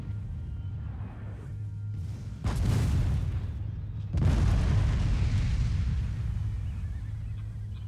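Artillery cannons firing in the Empire Total War strategy game, set on an 18th-century battlefield: two heavy booming blasts a couple of seconds apart over a low steady rumble of battle ambience.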